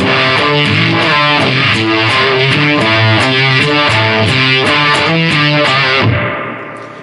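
Electric guitar through fuzz and overdrive plus a univibe, played into a vintage amp such as a '64 Super Reverb or Bassman in a closed cabinet, loud, thick and close, chugging rhythmically before the final chord rings off.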